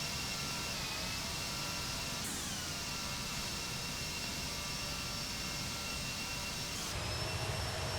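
Jet engines of an Aerosoft CRJ 700/900 in the Prepar3D flight simulator whine and hiss steadily, a dense continuous roar with a high tone that shifts in pitch twice, alone without talk.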